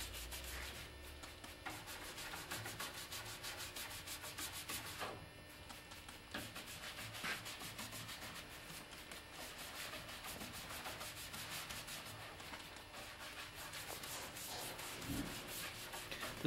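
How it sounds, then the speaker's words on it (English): A cutoff brush works Star 10 paint stripper across a wooden table in quiet, repeated scrubbing strokes with an uneven rhythm, faint and close, with no one talking. "coming back with a cutoff brush, keeping that area wet"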